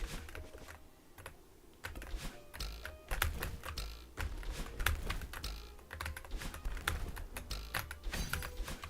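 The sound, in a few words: computer keyboard typing while playing a video game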